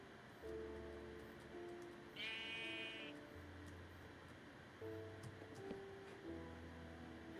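Sheep in Minecraft bleating two or three times in short wavering cries, quiet and spaced out against a soft background hum, with no one talking.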